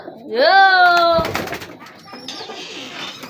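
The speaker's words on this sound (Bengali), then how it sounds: "দেখছেন মানে পুরাই কবুতরের পরিবার এগুলা" A close, loud cooing call with a rising harmonic tone at the start, followed by softer rustling and faint background noise.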